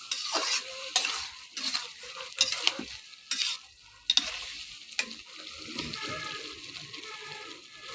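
An eggplant curry being stir-fried in a pan, with a spatula scraping in rhythmic strokes over a continuous close sizzle, and no talking.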